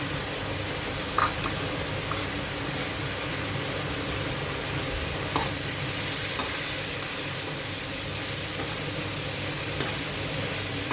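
Pork belly and pork ribs stir-frying in a pan with chili powder and fried scallions, giving a steady loud sizzle with occasional clinks of a utensil stirring, and no voices.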